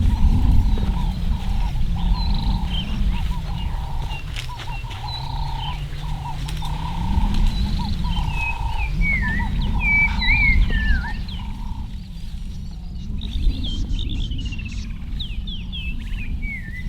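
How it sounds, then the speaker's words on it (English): Black-crowned tchagra calling from a bush on a safari game reserve, a series of clear whistled, slurred notes rising and falling over steady low rumble of nearby feeding elephants and outdoor ambience, moderately close. "there's a beautiful black-crowned chagra calling in a bush just to our left"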